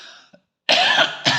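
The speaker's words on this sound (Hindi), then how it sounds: "थोड़ा सा खांसी हो गया" A person with a cold coughs twice close to the microphone, two short harsh bursts after a moment of speech, in a cold room.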